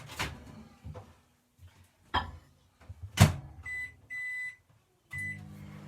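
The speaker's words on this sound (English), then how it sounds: "I'm going to pop this in my microwave and hopefully it will come out" Kitchen clatter with a microwave door shutting on a salted caramel mug cake, a couple of beeps, then the short hum of the oven starting up.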